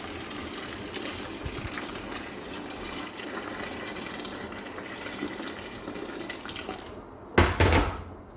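Water runs steadily from a tap into a cooking pot with a soft, even hiss, then briefly gushes louder near the end.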